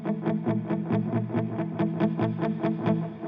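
An effects-laden electric guitar chord with distortion and chorus is strummed repeatedly in a steady pulse, loud and sustained throughout, with no voices.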